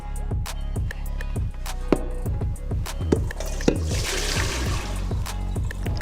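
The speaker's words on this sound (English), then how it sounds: "they're in the colander. Listen, it's drying, right? We're getting those to drip all of the water." Boiled potatoes sit draining in a colander in a kitchen sink, giving a steady run of close, irregular drips and small splashes with a few sharper plinks, with no talking over it.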